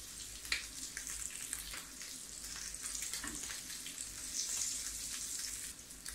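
Fish fries on a tawa with a soft, continuous sizzle and crackle, quiet and close, with a few brief scraping knocks from moving the pieces; no one speaks.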